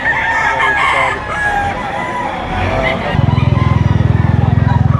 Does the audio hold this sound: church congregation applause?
no